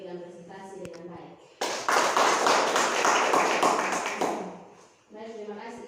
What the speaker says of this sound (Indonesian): kita berikan tepuk tangan buat Ibu Maci yang telah memberikan presentasi dengan baik